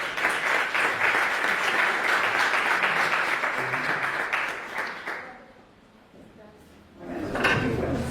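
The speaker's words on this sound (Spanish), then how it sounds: "Pido un aplauso" Applause from a conference audience, a loud dense clatter of many hands for about five seconds that fades to near quiet, followed by a voice speaking.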